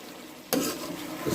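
Chicken malai handi with cream being stirred in a pan, a soft brief scrape and sizzle that swells after a sudden start, close and quiet with no voices.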